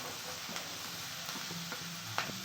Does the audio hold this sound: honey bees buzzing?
no